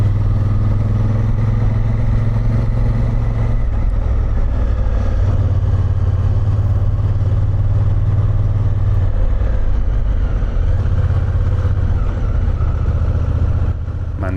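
A motorcycle engine drones steadily and loudly through a series of tight hairpin bends on a mountain road in Friuli, its pitch easing and swelling as the rider rolls off and pulls out of each turn.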